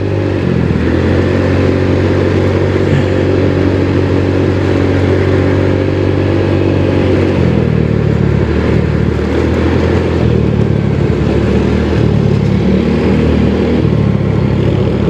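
A motorcycle engine drones loudly and continuously during a test ride, holding a steady mid-pitched note before shifting tone about halfway through, close and with no talking.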